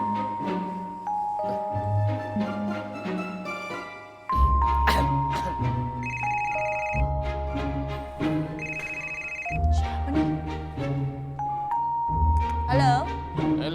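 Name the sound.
telephone ringing during a call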